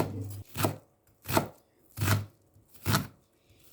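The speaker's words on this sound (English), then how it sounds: "Then chopped 1 medium size of onion that cut into cubes." Knife chopping a medium onion into cubes, four distinct, evenly spaced chops on a board, close and clear with quiet gaps between them.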